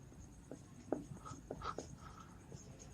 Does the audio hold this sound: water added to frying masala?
no